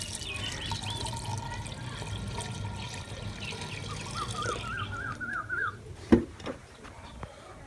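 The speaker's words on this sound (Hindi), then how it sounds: "और इसके अलावा हम पानी शामिल करेंगे।" Water is poured into a cooking pot for rabbit yakhni, a quiet, soft trickle and splash that runs along, followed by a sharp clink of the pot.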